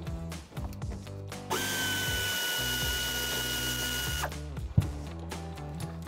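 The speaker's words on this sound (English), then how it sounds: "I have my air ratchet right here. It's a 3/8 drive with a deep 15 millimeter socket." A 3/8-drive air ratchet with a deep 15 mm socket loosens the shock top nuts on a 1994-2004 Mustang. It gives one sustained high pneumatic whir of about three seconds, with clanks and tool handling before and after.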